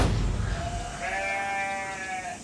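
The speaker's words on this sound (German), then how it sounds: "Ziege." A goat bleats once, a close, wavering drawn-out cry lasting about a second and a half over low background rumble, in a countryside guesthouse setting.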